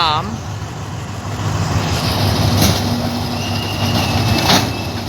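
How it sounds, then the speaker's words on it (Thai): Freight express train No. 985 pulls in to platform 1 at a Thai railway station, a steady rumble of wagons with a rising metallic squeal of wheels and a brief high whistle-like tone near the start. "มาแล้วครับกับขบวนรถสินค้าที่พอวัดทุกดวนนะครับ ขบวนที่ 985 ครับ มันจะเข้าเทียบชานชลาที่1"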